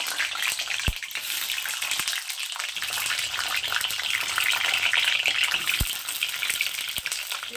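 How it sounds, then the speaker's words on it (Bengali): Eggs dropped into hot mustard oil fry with a loud, continuous crackling sizzle. A few sharp pops and clicks sound close by, and no one speaks. "এবার তেলের মধ্যে আমি ডিমগুলোকে দিয়ে দিচ্ছি"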